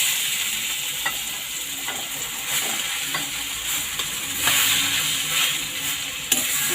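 Mango pieces sautéing in ghee for gulamba, a continuous bright sizzle with occasional stirring scrapes and clinks, close and steady throughout without any voices.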